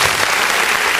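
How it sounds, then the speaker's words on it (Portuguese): A church congregation breaks into loud, dense applause, an even wash of clapping that continues steadily for the whole moment. "Pode dar uma salva de palmas em nome de Jesus."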